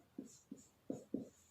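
Pen or chalk strokes write a line of a math solution, four short scratchy bursts spaced unevenly in a quiet room.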